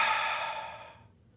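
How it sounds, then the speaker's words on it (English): A single large, loud inhaled breath with a high-pitched hiss, close to the listener and fading out over about a second, no talking. "take a large breath and listen to the sound"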